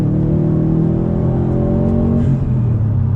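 Modded 2018 Subaru WRX STI accelerating, a loud, close, steady engine drone with rising harmonics as it pulls through the revs.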